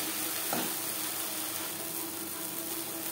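Spices frying in a small amount of oil for a rohu fish curry with ridge gourd give a steady, even hiss of sizzling. There is one brief stir-like clink near the start and no talking.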